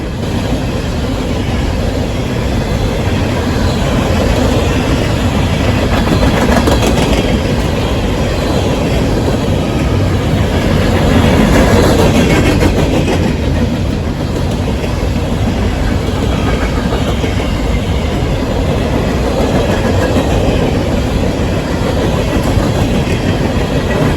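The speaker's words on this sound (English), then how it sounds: "our southbound empty coal train thunder his way through Worthington" A CSX empty coal train, the as-needed E502 job running southbound from the Toledo docks toward the Russell, Kentucky mines, thunders through Worthington, Ohio with a steady, loud rumble and rail clatter that swells briefly mid-pass and never lets up.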